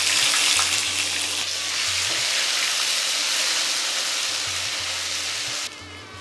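Ginger paste and whole cumin frying in hot oil with spices, a steady loud sizzle and crackle that fills the whole stretch, cooking Bengali wedding-style chholar daal.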